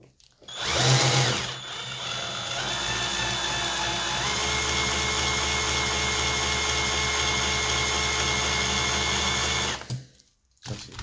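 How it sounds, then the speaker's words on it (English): A power drill bores into an old chrome-plated plastic toy, spinning up with a sharp burst, then holding a steady whining grind for several seconds before cutting off abruptly near the end. "We're going to do a little more drilling on this side."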